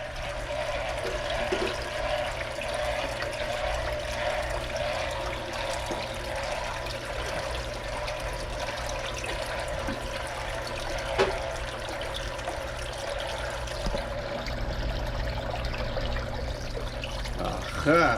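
A continuous mechanical hum and rushing water as a pump draws water while cleaning a 125-gallon koi tank, steady and fairly loud throughout with little variation.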